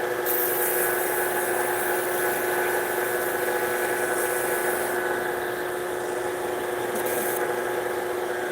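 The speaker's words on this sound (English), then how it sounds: "get that sanded down a little bit." A power sander runs steadily on a wooden shillelagh, a continuous close whine with a brief change in pitch partway through, and no talking.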